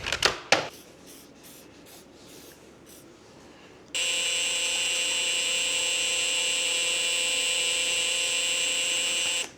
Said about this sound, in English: here's the tool I got to hone it out. EWK piston cylinder honing tool.